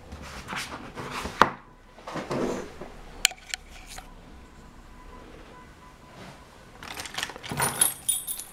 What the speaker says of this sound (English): I look for my keys.